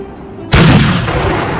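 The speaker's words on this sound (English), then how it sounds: "Ready the cannons." A single cannon blast bursts out abruptly and loud, then rumbles on in a sustained heavy roar with no voices.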